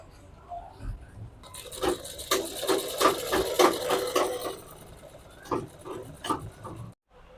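A sewing machine runs a narrow line of stitching along a folded skirt hem edge, a rapid rattling run that stops and restarts in short bursts, close and clear with no talking.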